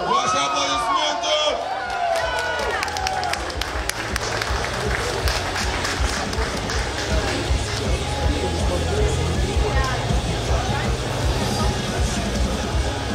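Loud crowd applause with cheering and whoops greets a group at a live concert, a dense continuous roar of clapping and shouting with an announcer's voice at the start, sustained throughout.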